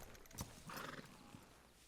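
A horse in Red Dead Redemption gives a short, faint whinny in the middle of a quiet stretch of game sound.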